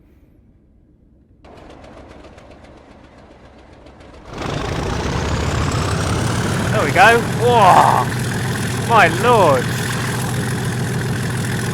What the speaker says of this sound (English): I love it when the engine revs actually work.